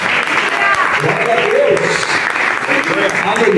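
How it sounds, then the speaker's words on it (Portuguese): A church congregation bursts into applause after a sermon reading, a dense and steady wash of clapping filling the room, with a preacher's voice talking over it. "Você pode dar um aplauso pela palavra do Senhor nessa noite?"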